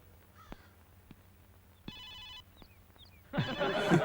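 A cell phone rings in a classroom: a faint electronic ringtone in short tonal bursts, with a couple of isolated clicks before it and a louder noisy burst at the end.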